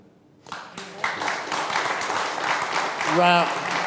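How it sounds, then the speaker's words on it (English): Applause from a conference audience rises and fills the room, a steady wash of many hands clapping, with a voice cutting in briefly near the end. "Big round of applause there, Ben."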